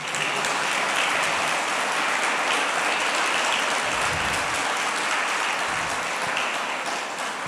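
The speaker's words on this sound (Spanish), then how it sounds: "¿Puede darle un aplauso al Señor?" A church congregation applauds in a steady, dense wash of clapping that holds evenly throughout, sounding like rain, with no voices over it.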